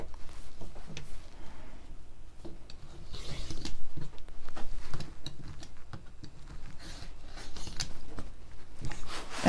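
Fabric being cut for a pineapple quilt block with a rotary cutter along a Creative Grids ruler: repeated soft rasping rubs and scrapes, close and quiet, coming in irregular strokes with brief clicks between them.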